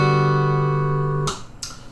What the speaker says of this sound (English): I'm going to use a downward strum for that, so it's going to sound like this